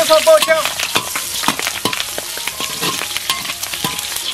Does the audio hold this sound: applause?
no